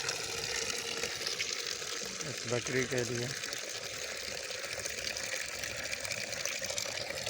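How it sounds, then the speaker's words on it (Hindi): Water running steadily from a tap into a container being filled for a goat, a continuous gushing hiss under a man's speech. "अब मैं इसको भर रहा हूँ। ये पानी भर रहे हैं हम"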